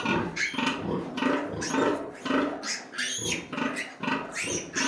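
Rough, repeated grunting from an old sow around farrowing, close and fairly loud, in irregular bursts that continue throughout with no talking.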